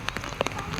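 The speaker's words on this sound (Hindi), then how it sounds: "अभी कोई बहुत तेज़ बारिश नहीं हो रही है, लेकिन ठीक ठाक हो रही है।" Moderate rain falling outdoors, with a steady patter of drops landing on surfaces and a few sharper splashes standing out close by.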